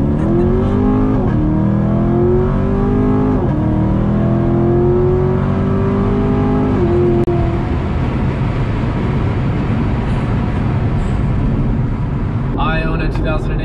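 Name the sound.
2015 C7 Corvette Stingray car engine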